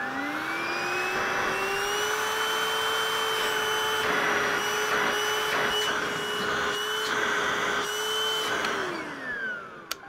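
A Hoover Freedom stick vacuum cleaner runs steadily and loudly at close range with a constant high whine, then winds down as it switches off near the end.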